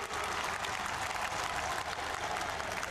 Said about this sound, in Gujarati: રેન્દ્રભાઈ મોદી આપણી વચ્ચે ઉપસ્થિત છે ત્યારે ફરી એકવાર તાળીઓના જોરદાર ગડગડાટથી તેમનું અભિવાદન કરીએ.